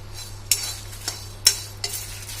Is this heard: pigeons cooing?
no